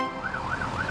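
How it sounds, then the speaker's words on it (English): A cartoon fire truck siren wails in a children's animated show, a loud, near, rising-and-falling tone repeating about three times in quick, even cycles over a background rumble. "They're brumming too loud to hear Fiona's siren."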